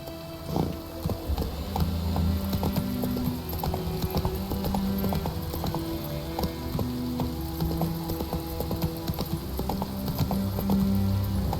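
A horse trotting in The Witcher 3 game, steady rhythmic clip-clop of hooves over a constant ambient bed with faint musical tones; no speech.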